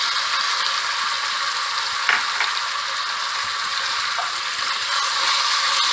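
Potatoes fry in hot oil with ginger garlic paste for aloo sabzi, a loud, steady hissing sizzle with a few brief scraping clicks of stirring, no talking.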